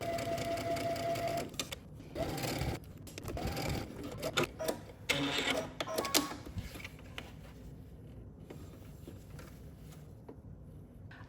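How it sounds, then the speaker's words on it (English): A sewing machine runs in bursts, its needle stitching in a rapid mechanical patter, then slows and falls quieter toward the end. "and I'm gonna head to the sewing machine."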